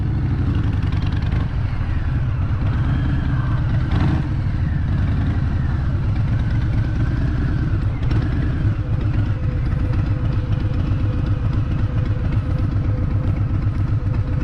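A Harley-Davidson motorcycle engine rumbles and revs amid New York City traffic, a steady loud low throb that runs throughout without pause.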